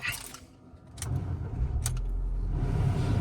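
A Ford Fiesta Titanium engine cranks and catches with a couple of clicks, then settles into a steady low idle up close.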